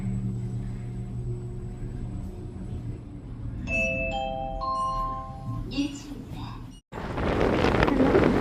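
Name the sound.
wind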